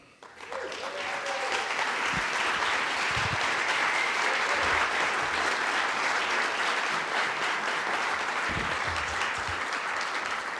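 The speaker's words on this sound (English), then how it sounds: "finally, one more applause" An audience at a mayor's address for business and community awards applauds city staff, producing a sustained, dense wash of clapping that starts quickly and stays loud and even throughout, with a faint voice near the start.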